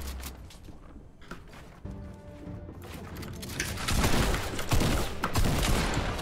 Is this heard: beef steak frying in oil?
no